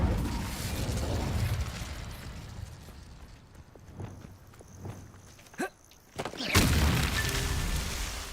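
A fire spell is cast in Hogwarts Legacy, with game footsteps and whooshes leading into a sharp magical burst and a rising fiery roar near the end.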